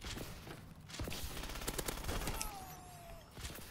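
Rapid automatic pistol fire in a gun game, a dense crackling volley of shots over a busy game soundscape, with a faint whistling tone near the end.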